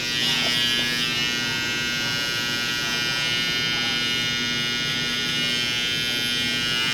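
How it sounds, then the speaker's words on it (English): Electric Oster hair clipper buzzing steadily and loudly throughout while outlining the edges of a military high bald fade haircut, a close, continuous motor whine with no talking. "I'm going to do a little bit of an outliner."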